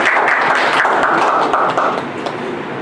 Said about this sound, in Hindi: तिवारी जी के लिए जोरदार तालियां।